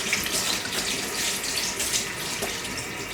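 Tap water runs steadily into a sink as cider-making equipment is rinsed, a continuous close splashing hiss that holds for the whole stretch with no talk.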